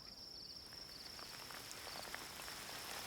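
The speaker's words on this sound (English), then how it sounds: "If you ask me, it's going to rain." Rain falls steadily in an animated cartoon, a dense, even patter with a faint high insect-like tone running through it and no voices.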